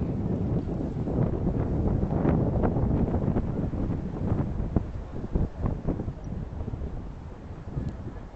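Steady wind buffets the microphone beside the River Thames in London at sunset, a continuous loud rumbling roar with gusty swells and no voices.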